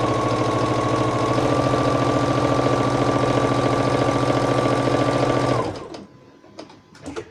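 A sewing machine runs at full speed stitching quilt fabric for jelly roll squares, a loud steady mechanical whir that cuts off abruptly, followed by a few soft handling clicks.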